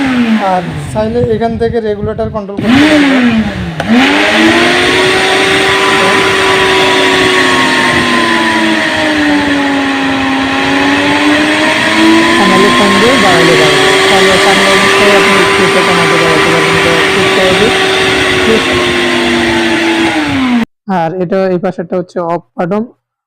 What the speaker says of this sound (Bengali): এই যে এখন মেশিনটা স্টার্ট দিয়ে দিলাম দেখেন খুব দ্রুত হেভি